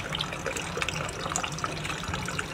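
Rice for chicken biryani being rinsed under running water, a steady close splashing and trickling stream with the grains stirred through it.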